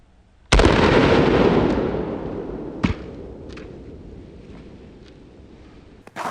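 A single loud 10 mm pistol shot cracks and booms, its echo decaying slowly, followed by a few faint clicks and a smaller pop.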